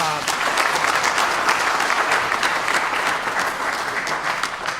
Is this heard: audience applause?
yes